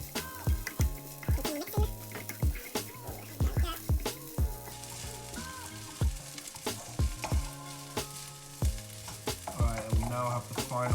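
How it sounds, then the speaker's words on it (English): Salmon fried rice with coconut oil sizzles in a pan while a utensil clatters and scrapes against the metal in an irregular rhythm, with the steady frying hiss underneath. "You're gonna hear this simmer."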